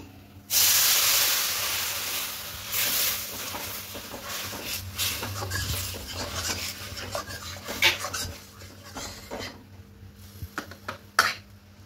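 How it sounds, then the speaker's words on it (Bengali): Water poured into a hot wok, a loud burst of steamy hissing at the start that gradually fades, followed by scattered clanks and scrapes of a utensil against the metal pan. "আবার এই কড়াইটা বসিয়ে দিলাম। এবার এর মধ্যে কিছুটা জল নেব।"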